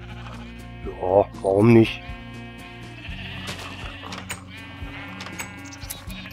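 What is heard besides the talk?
sheep bleating in the video game Minecraft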